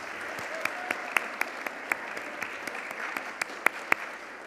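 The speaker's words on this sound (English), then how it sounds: "give just a round of applause for our student organizations" An audience claps steadily in a large hall at a university scholarship awards ceremony, a dense wash of hands with a few sharp, louder claps standing out near the front.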